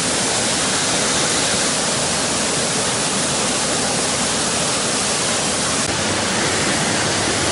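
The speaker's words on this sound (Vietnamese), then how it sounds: "cuối cùng tôi cũng đã tiếp cận đến ngọn thác" A waterfall about 8 to 10 metres high across a forest stream roughs out a loud, steady broadband rush of falling water, constant and close throughout with no talk.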